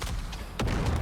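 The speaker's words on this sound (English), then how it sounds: "Ooh, that's a grenade." A grenade detonating in the video game Dune: Awakening: a single deep, close boom that lands midway and rumbles to the end.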